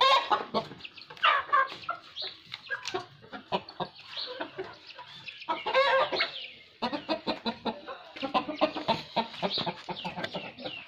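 A rooster clucks repeatedly at close range in irregular bursts of short throaty calls, with brief pauses between them and no talk.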